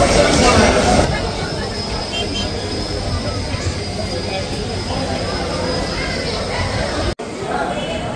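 The Titumir Express train with its new white rake runs near Santahar railway station, a loud, steady broadband rumble and rush throughout, with a brief dropout near the end and voices faintly mixed in.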